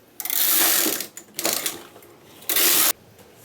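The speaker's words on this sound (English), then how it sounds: "Now I'm going to knit my second row, and then I'm going to knit until row counter 8." Knitting machine carriage pushed across the needle bed to knit a row, making loud, close mechanical rasping sweeps in three separate bursts with brief pauses between them.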